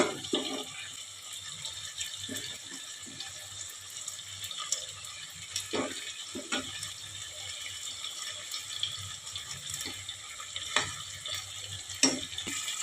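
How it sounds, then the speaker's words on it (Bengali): Quiet, steady sizzle of snakehead (shol) fish frying in oil, broken by a few scattered clicks and scrapes from a utensil in the pan. "তাহলে মাছটা ভালো ভাজাও হবে আর মশলাটাও কষা হবে।"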